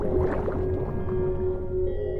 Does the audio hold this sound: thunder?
no